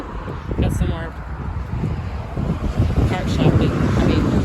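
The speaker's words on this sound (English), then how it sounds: "It is super windy." Strong gusty wind buffets the microphone on the Bob Jones Trail in San Luis Obispo, California, near a treatment plant, a low blustery roar that rises and falls steadily beneath people talking.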